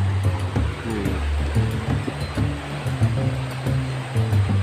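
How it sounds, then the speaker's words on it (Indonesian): A waterfall at Renah Sungai Besar pours steady, broadband water noise close by, a continuous rushing roar with low rumble that holds level throughout, with no voices. "Airnya jatuh dari tempat yang paling tinggi tadi,"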